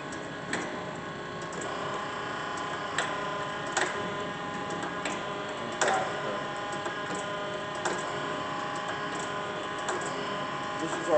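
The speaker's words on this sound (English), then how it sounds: "This is our fully automatic Mitsui grinder." A fully automatic Mitsui 8 x 18 inch three-axis surface grinder, built around 1980 and rebuilt around 2000, hums steadily with hydraulic table motion and regular faint ticks and clicks, close and continuous.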